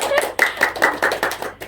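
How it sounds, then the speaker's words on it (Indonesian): An audience applauds in an Indonesian podcast about studying while working, a burst of brisk hand clapping with steady rhythmic claps, fairly loud and close. "Tepuk tangan yang meriah boleh deh."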